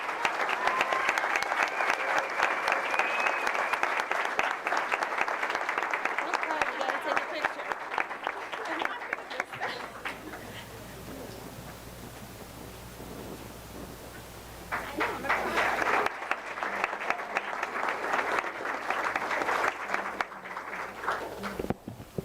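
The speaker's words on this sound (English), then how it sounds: "join me in giving her one more round of applause" Sustained audience applause at a school board of education meeting honoring a middle school staff member, loud and steady, dipping briefly before swelling again, with voices faintly underneath.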